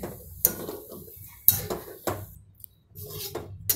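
A spoon scrapes and clinks against a pan as besan (gram flour) is stirred round while roasting for a dry besan sabzi, giving close, irregular metallic knocks and scraping with no talking.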